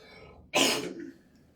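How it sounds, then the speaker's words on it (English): A single short, harsh throat clearing from a person recovering from a cold, loud and close, standing alone against near silence. "that's why I'm clearing my throat a lot"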